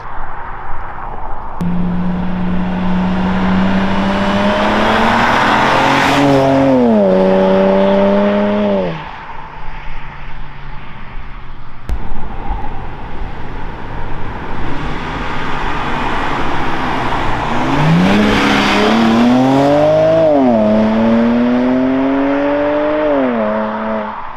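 A 2008 BMW 335xi's engine revs hard twice, rising pitch sweeps as it accelerates through gears, loud and close, with a rumbling idle between pulls.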